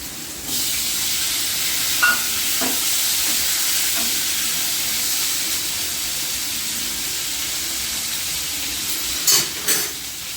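Potatoes frying in a pan for a thin bata fish curry, a loud steady sizzle and steamy hiss throughout with a few brief clatters of stirring, no talking.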